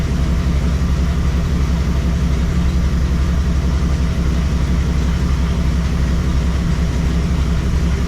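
A 1987 Dodge D100 engine idles steadily after an ignition timing adjustment, a continuous loud low rumble running unchanged throughout with no voices.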